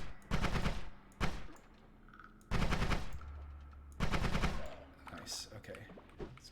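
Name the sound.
shotgun fire in the video game Spelunky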